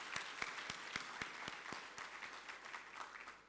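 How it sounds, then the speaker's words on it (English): Applause from an audience at an International Women's Day celebration, a fairly faint patter of claps with a few sharper individual claps standing out, tapering off toward the end. "can we give DBN a round of applause"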